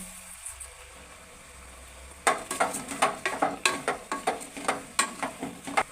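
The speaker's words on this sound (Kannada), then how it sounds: "ಎರಡು ಲೋಟ ಅಕ್ಕಿಯನ್ನು ಚೆನ್ನಾಗಿ ತೊಳೆದು ನೆನೆಸಿಟ್ಕೊಂಡು ಅದನ್ನು ಇದಕ್ಕೆ ಹಾಕೊಳ್ತಾ ಇದ್ದೀನಿ" Washed, soaked rice being added to a cooking pot for palak pulav, a quiet start followed by a quick run of sharp splashy scrapes and taps against the pot, close up, no talking.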